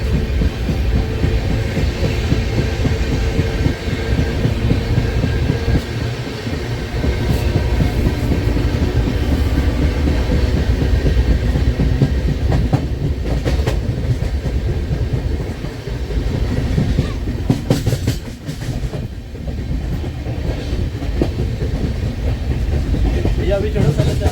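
The Ajmer Shatabdi Express picks up speed on the rails, heard from inside as a loud, steady rumble with rhythmic clickety-clack of wheels over rail joints throughout, with no voices.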